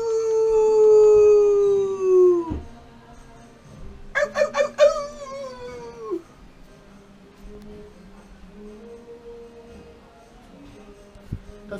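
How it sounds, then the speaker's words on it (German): A dog howls in a long, loud, falling wail that fades out, then after a pause gives a quick run of high yips and whimpers, with quiet household background. "Der Hund jault schon."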